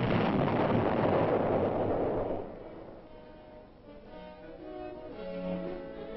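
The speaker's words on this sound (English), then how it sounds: "106 millimeter recoilless rifle fires a 37-pound round consisting of a primer, a propelling charge located in a perforated case, and a fused projectile" A 106 millimeter recoilless rifle firing a 37-pound round: a heavy blast roar that swells for a couple of seconds, then fades into a rumbling, distant tail with faint lingering noise.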